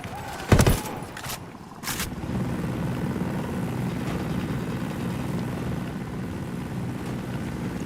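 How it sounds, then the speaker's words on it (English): Helicopter in the video game Ghost Recon Wildlands: a sustained, rumbling rotor drone builds and holds steady. A couple of sharp gunshot-like bangs come just before it. "We got a chopper coming in."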